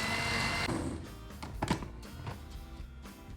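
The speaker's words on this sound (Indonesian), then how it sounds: "Sekarang kita blender ebi sampai halus." A blender grinds washed dried shrimp, its motor roaring loudly and close, then shifting to a rougher, uneven whir with clattering pulses as the pieces break down over a few seconds.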